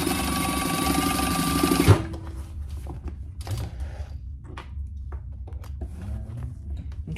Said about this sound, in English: So I'm just gonna baste that in place. I just go all the way across.